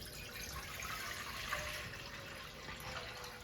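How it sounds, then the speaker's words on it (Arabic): Water runs from a tap into an empty cooking pot on the stove, a steady, fairly quiet rushing stream with a faint hollow filling tone, continuous throughout. "نحط فيها ميه"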